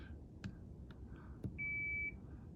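A Lexus SC430 memory seat set button gives a single steady electronic beep lasting about half a second, clear over a low background hum with a few faint clicks before it.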